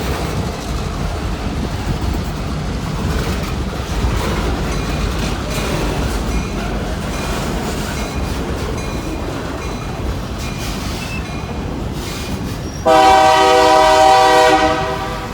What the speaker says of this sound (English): This is a hard train to catch right here.